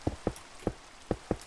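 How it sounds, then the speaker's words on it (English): Sparse raindrops tap in a loose, irregular pattern, five soft distinct hits over a quiet background, faint and close. "Oh boy, rain. That's just not what I want to have when I'm deep in a hole."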